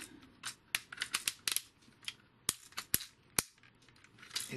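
Sharp plastic clicks come from the ratcheting joints of a Transformers Planet-X Neptune figure as it is posed, a close series of crisp snaps in irregular bursts with no talking.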